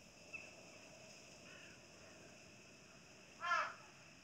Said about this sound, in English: A damn bird.